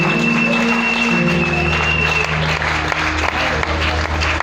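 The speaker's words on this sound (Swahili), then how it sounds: "Ongeza makofi kwa Bwana." Congregation in a Pentecostal church at a conference opening clapping together, sustained applause over a humming sound system with a held tone, loud and continuous throughout.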